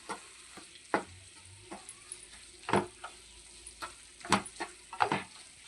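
A spoon stirs carrot halwa with fried cashew and almond pieces in a pan, with a series of irregular scraping, clinking knocks and soft sizzling, close and quiet between strokes.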